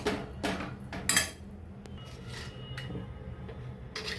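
A spoon stirring boiled dal and spinach in a metal pot, a few scraping clinks of metal on metal early on, then quieter soft rubbing and stirring close by.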